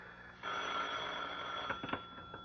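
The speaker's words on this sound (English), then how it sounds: "will that phone ever stop ringing so we can get on with this?" A telephone bell rings in a radio drama scene, a faint steady electric ring sustained for a couple of seconds with a few soft knocks and clicks around it.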